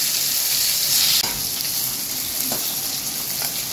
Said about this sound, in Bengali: কড়া ভাজা হয়ে গেছে, একদম ভালোভাবে লাল করে ভেজে নিয়েছি।